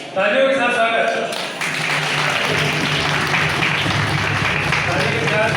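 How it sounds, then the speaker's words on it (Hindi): A crowd at a Chero tribal community event gives steady, loud applause to welcome guests, continuous clapping that carries on throughout with a voice heard faintly at the start. "अद्भुत तालियों के साथ स्वागत करेंगे।"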